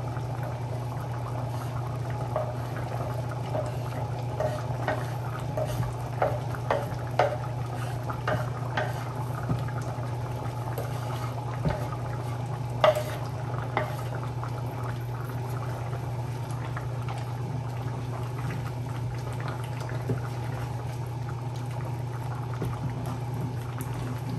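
A pot of Jamaican pigtail stew peas with flour dumplings and natural seasoning simmers, a quiet steady bubbling over a low hum, with occasional soft clinks and taps as ingredients go in.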